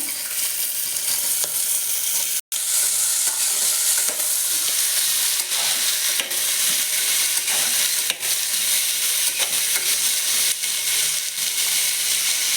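Cluster beans frying in a pan over a medium flame, a loud, dense, continuous sizzle with faint stirring scrapes throughout, close up, with one brief dropout early on and no talking.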